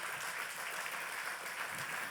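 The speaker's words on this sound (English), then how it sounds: "I think he deserves an applause" Audience applause at a closing ceremony, a short stretch of steady, even clapping heard at a distance and fairly soft, with no talk over it.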